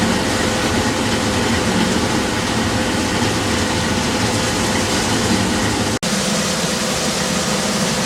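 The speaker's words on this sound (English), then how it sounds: "I can hear that auger rattling, and there's almost nothing coming out up there." A running auger rattles in a loud, continuous, dense roar that cuts out for an instant partway through, with no speech.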